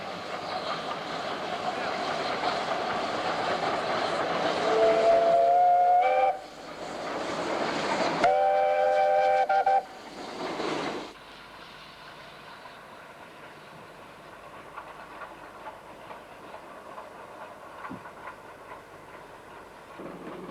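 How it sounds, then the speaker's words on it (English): A 19D steam locomotive coasts through a station on the return run toward Cape Town, a steady rumble of moving rail cars broken by two short whistle blasts, then fading to a quieter background hum. "the locomotive as it gently coasts through the station on the way back to Cape Town."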